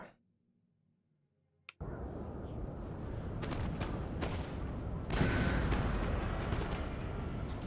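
Artillery barrage in Napoleon: Total War, Great Britain coalition campaign battle: after near silence, a sudden loud onset of dense rumbling cannon fire and crackling volleys that builds and swells, continuous to the end.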